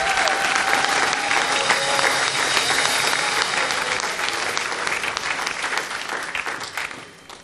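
A church congregation at a Sunday service applauds, sustained loud clapping from a large crowd that fills the room and then gradually thins out toward the end.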